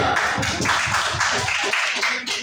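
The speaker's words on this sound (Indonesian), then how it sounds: "Oke, tepuk tangan buat kelompok 2." A classroom of students claps for a student group after its presentation, with dense, steady hand claps filling the short stretch at close range.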